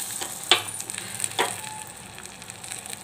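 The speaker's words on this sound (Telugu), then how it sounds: "పోపు అయితే వేగిపోయింది కదా ఇప్పుడు అది ఇందులో వేసుకోవాలి" Tempering of mustard seeds, cumin, red chilli and curry leaves poured into tomato dal gives a soft hiss with a couple of sharp crackles, quiet and close, no voices.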